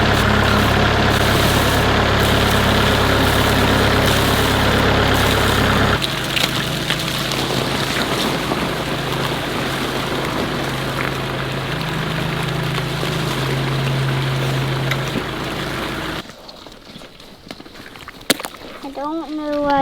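A tractor engine idles steadily close by during water pouring from its bucket by a fence: a constant low rumble that shifts in tone after a few seconds, then drops away near the end.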